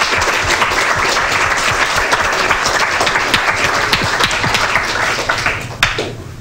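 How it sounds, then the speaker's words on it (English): Loud audience applause at a class software demo day, sustained dense clapping for about six seconds before tapering off abruptly at the end. "Let's give a round of applause to everyone again."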